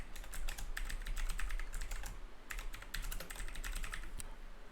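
Rapid typing on a computer keyboard while entering text into a new text layer, with steady clicky keystrokes in quick bursts and short pauses, close and fairly quiet over a low background hum.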